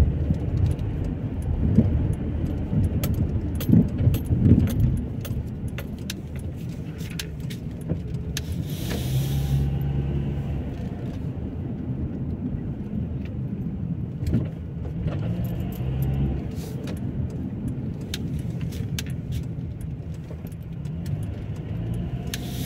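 A car driving through Luton from Stopsley to Marsh Farm, heard from inside as a steady low engine and road rumble with occasional rattles and knocks, no talk.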